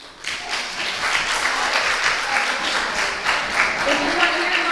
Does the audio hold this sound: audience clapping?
yes